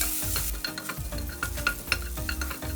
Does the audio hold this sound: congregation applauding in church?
no